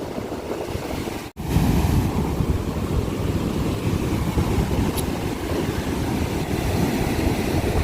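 Rough sea surf crashing onto the shore at Madhavpur, a loud continuous roar of breaking waves with heavy wind buffeting the microphone, briefly cutting out near the start.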